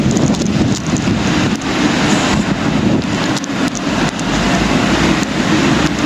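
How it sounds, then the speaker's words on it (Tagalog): Loud, steady typhoon wind roars and buffets the microphone without letup, a dense rumbling rush with occasional gusty thumps, outdoors in Hong Kong. "Naririnig nyo ba yun? Hangin yun."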